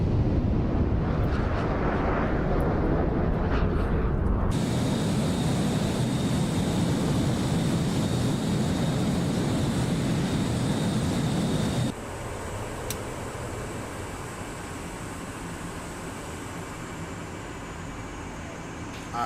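Simulated F/A-18 Hornet jet in a flight simulator game, a steady loud roar of engine and airflow that drops to a quieter, smoother rush partway through, with no talk.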